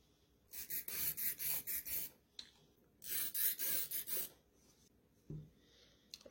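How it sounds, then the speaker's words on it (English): A marker drawing a rectangular stitching line on fabric, two runs of close scratchy rubbing strokes split by a short pause, with a faint soft tap near the end. "I'm just going to draw on the little rectangle"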